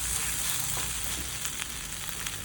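Ivy gourd (kovakka) fry sizzles steadily in a hot pan while being stirred, with a few soft scraping strokes rising above the constant crackle and no voices.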